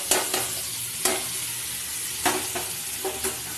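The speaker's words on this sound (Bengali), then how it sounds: "পাকা আমগুলো নিয়ে চলে এসেছি, তেলের মধ্যে একে একে দিয়ে দিচ্ছি। দিয়ে ভালো করে নাড়তে চাড়তে হবে।" Ripe mangoes go into hot oil for a chutney and get stirred: steady sizzling frying hiss throughout, broken by several sharp spoon-against-pan scrapes and clinks, close and fairly loud, no talking.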